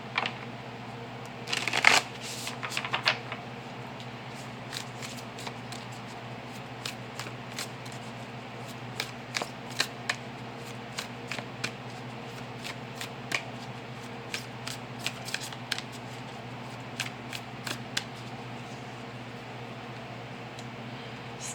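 A Moonology oracle card deck is shuffled by hand. Papery riffles and soft flicks repeat in uneven bursts over a steady low hum, close and quiet.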